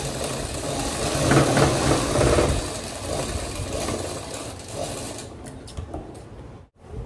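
A sewing machine runs steadily while stitching a Peshwai nauvari saree, a dense mechanical whirring hum that swells slightly and then stops abruptly near the end.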